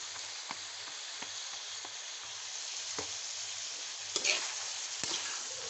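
Marinated chicken for shawarma, dressed with vinegar and soy sauce, sizzles steadily in a pan. Soft stirring scrapes and clicks punctuate the frying, and no one speaks.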